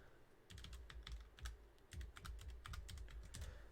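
Fingers type on a computer keyboard: quick, irregular bursts of soft clicking keystrokes, close but quiet, running steadily with no voices.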